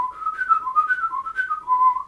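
A clear whistled melody, steady and close, wavering up and down in pitch with short breaks between phrases.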